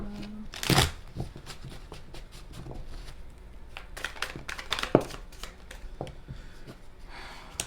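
Tarot cards are shuffled close up in short riffling bursts and soft slides, with pauses and light handling noises between.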